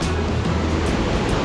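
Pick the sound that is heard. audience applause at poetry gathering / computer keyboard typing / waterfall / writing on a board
waterfall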